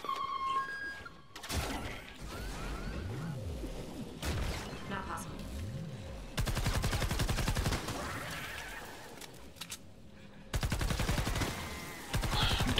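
Rapid gunfire from Fortnite Save the World fills the scene as dense, continuous bursts of shots with loud stretches over other game sounds and effects.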